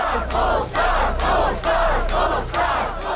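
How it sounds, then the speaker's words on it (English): A passionate crowd cheers and roars continuously at a no-fuel drag race showdown, loud and close, with rhythmic swells of shouting and no speech. "A passionate crowd are getting behind their heroes"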